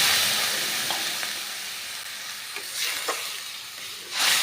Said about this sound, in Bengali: এখানে মসুর ডাল আমার ভাজা হয়ে গেছে। এর মধ্যে আমি জল অ্যাড করে দিলাম।